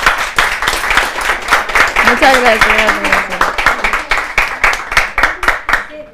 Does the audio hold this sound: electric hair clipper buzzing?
no